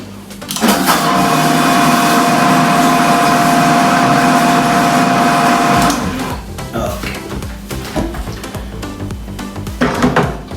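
A loud blender whirs steadily for several seconds making Neapolitan pizza sauce, then shuts off, leaving softer clatter and background noise.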